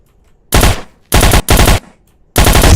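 Rapid automatic gunfire from a video game, four loud close bursts of varying length separated by short silences, with no voices.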